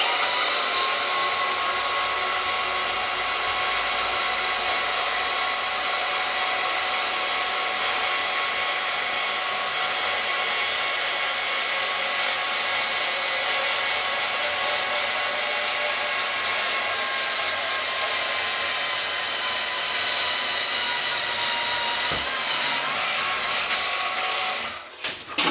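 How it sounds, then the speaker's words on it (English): A bandsaw cuts through the welds joining the windings of a scrap lighting transformer, a loud, steady high whine that runs unbroken for over twenty seconds at close range before it winds down, with no talk. "line up my bandsaw blade on each of those splits in the windings and cut through the weld"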